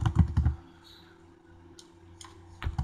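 A computer keyboard typing out a command, a few quick bursts of soft clicking keystrokes at close range with quiet pauses between them.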